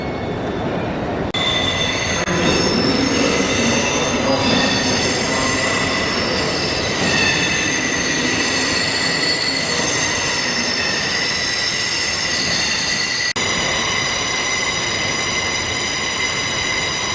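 A train squeals and rumbles alongside a platform at busy Newcastle station, steady metallic wheel screech with broad station noise, loud and continuous throughout.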